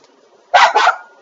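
Dogs bark indoors, two quick loud barks in close succession, then quiet room tone returns.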